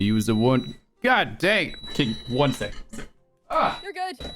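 A high, thin electronic alarm tone sounds steadily, like a fire alarm, while a person talks loudly and animatedly over it.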